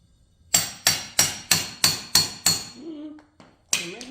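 Seven evenly spaced hammer blows drive a metal axle into a Peg Perego toy trailer part, each a sharp ringing strike close by, then a brief scrape and one last hit.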